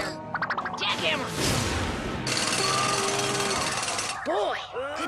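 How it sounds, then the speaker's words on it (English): A loud jackhammer rattles in a steady, rapid burst for a couple of seconds, mixed with animated cartoon-like voices and clanks before and after. "Jackhammer!"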